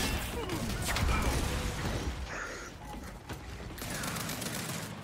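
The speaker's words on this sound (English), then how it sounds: "Incoming fire." Incoming gunfire in the Gears 5 video game, a dense continuous fusillade of shots and mechanical clatter held steady across the stretch, loud and busy with no clear breaks.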